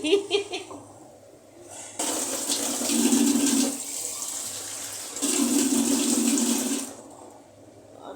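Water poured into a pot of cooking vegetables and potatoes, two steady splashing pours of about two seconds each, near and fairly loud, with quieter clatter around them.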